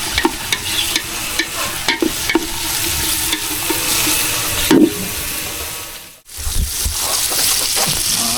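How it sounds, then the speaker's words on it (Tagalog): Tomatoes are stirred and crushed in a hot frying pan, a loud, close sizzle under repeated scraping and knocking of a utensil against the pan, with a brief lull before the frying resumes. "Durugin natin mga karabas yung kamatis para kumatas."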